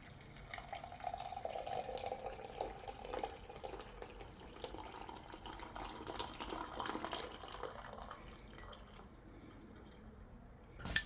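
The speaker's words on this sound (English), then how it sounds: "Pour in our coffee." Coffee pouring from a portable electric grinder setup, a soft continuous liquid stream with faint drips, fairly quiet and close, ending with a brief sharp clink.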